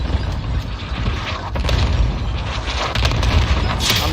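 Precision airstrike explosions in a PC video game: a heavy low rumbling boom with sharp broadband impacts at intervals, loud and continuous over roughly four seconds, with no talk.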